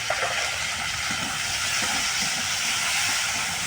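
Tomato pieces and spices sizzle steadily in a little frying oil, a continuous loud hiss and crackle close by, for a cabbage dish cooked with fish head.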